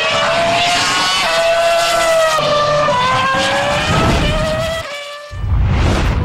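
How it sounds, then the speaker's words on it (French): Michael Schumacher's Ferrari Formula 1 car engine during tyre testing before the Monaco Grand Prix, a loud, high-pitched screaming wail rising through the gears, then dropping off sharply before roaring back. "Michael Schumacher est attendu pour effectuer des essais de pneus sur sa Formule 1"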